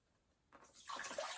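Water poured from a watering can, starting after a quiet moment as a faint trickle, then swelling into a steady splashy stream that grows louder toward the end.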